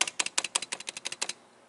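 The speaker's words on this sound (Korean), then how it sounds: "지금 여기 키보드 소리를 한번 들려드릴게요." Keys on a 2016-era MacBook Pro Touch Bar keyboard in normal working condition are typed in a quick run of about a dozen crisp, close clicks, then stop, with no voices.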